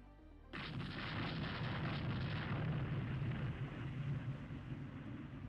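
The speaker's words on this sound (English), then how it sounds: "we are getting a lot of 9-inch shell hits in" A warship in the Rule the Waves II naval game takes 9-inch shell hits, heard as a sudden loud boom that swells into a sustained, rumbling roar of explosions and gunfire lasting several seconds.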